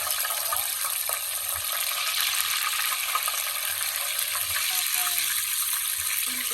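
Whole spices such as cinnamon, cardamom and cloves frying in hot oil left over from frying chicken, a steady close hiss of sizzling that runs throughout with a few light clinks near the end.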